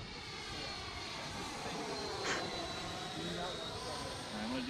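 A Freewing 80mm 12-blade EDF Avanti S RC jet flies at half throttle in an evening session, its ducted fan giving a steady, faint whooshing whine at a distance, with brief talk at the end.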